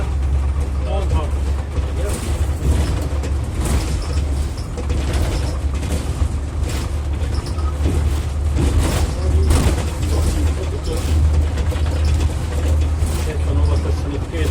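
An Ikarus 412 bus on a test drive, its engine a steady low drone with mechanical rattles and creaks throughout as it turns carefully between two parked buses, with a driver and instructor talking over the noise.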